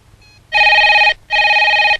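A telephone rings in two loud, bright electronic bursts, each about half a second long with a brief gap between, close and alone.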